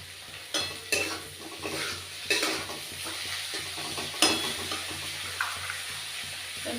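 Chopped tomatoes sizzling in a pan while a spoon stirs them, with a steady crackling fry broken by several sharp scrapes and clinks against the pan at an uneven pace, close up and with no talk.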